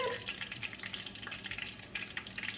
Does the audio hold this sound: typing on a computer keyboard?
no